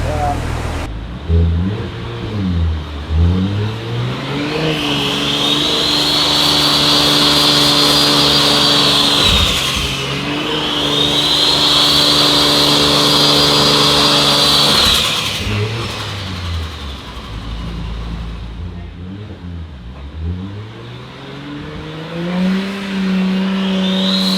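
A turbocharged car engine running full boost with its wastegate disconnected revs hard in repeated rising pulls, each climbing to a high whine and dropping back, loud and close.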